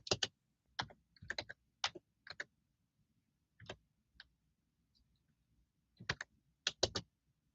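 Bursts of typing on a computer keyboard, quick clusters of sharp key clicks separated by short pauses, close and fairly quiet with no talking.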